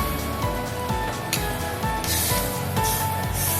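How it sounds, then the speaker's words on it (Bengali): Water poured into a hot pan of small-fish chorchori with potatoes, a loud close hiss and spatter swelling over a few seconds with a dense sizzle beneath. "এবার আমি দিয়ে দেবো পরিমাণ মতন জল"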